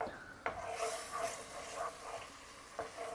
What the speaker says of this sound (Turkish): Güzelce bunu karıştırıyoruz.